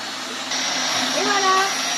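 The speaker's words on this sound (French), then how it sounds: "Je laisse le mixeur en route et par le petit trou d'en haut," A kitchen blender runs continuously, blending herbs into a yogurt sauce with a loud, steady whirring that shifts slightly in pitch as the load changes, and a voice is briefly heard over it.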